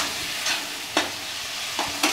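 Curry spice paste and a little water are stirred in a hot pan for a chicken curry. A spoon scrapes in a few distinct strokes over a steady, close sizzle.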